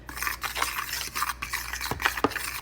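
Seasonings being mixed into flour for an extra-thick fried chicken breading, heard as soft, close scraping and stirring strokes in a bowl with a few light clinks, steady and continuous without any talk.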